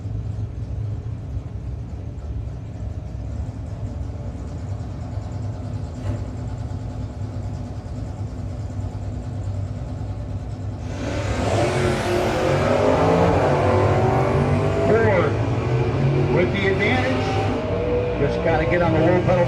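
A 1968 Super B and a second-generation Camaro launch at a no-box drag race, engines idling low and steady before a loud, raucous surge of revving and acceleration that swells near and then pulls away.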